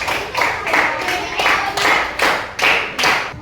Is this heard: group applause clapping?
yes